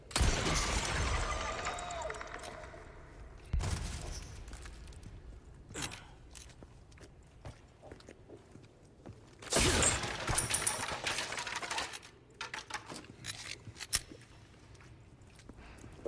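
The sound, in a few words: gunshots shooting bugs in video game Resident Evil 4 Remake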